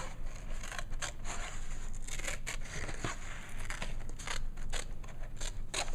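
Scissors make a quick series of close, crisp snips, cutting paper into ragged shapes. The irregular rhythm comes with faint rustling between cuts.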